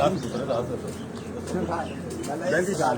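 Pigeons cooing at a home pigeon loft, soft repeated low coos over a steady background murmur, with voices talking nearby.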